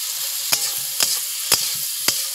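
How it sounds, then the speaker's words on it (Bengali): Chopped tomatoes frying in hot oil in a pan, a continuous bright sizzle broken by four evenly spaced sharp stirring scrapes, close and alone without talk. "টমেটোটা কেটে রেখেছি সেগুলো তেলের উপরে দিয়ে দিচ্ছি ভালো করে টমেটোটাকে ভেজে নিতে হবে"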